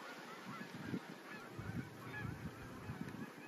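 Wild geese honking near water at a duck and goose haunt, a scattered series of nasal calls from several birds at moderate distance over faint outdoor ambience.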